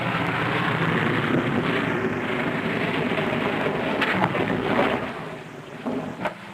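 Propeller aircraft making a one-engine landing on skis onto Antarctic ice, a steady loud engine drone and rushing noise that eases near the end, with no talking.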